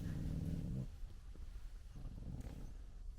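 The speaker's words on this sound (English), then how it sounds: "She's growling at the sheep." A dog growls at nearby sheep while resting in a parked van in rural South Wales, a low rumbling growl that is strongest at first, then quieter rumbles come in brief bursts.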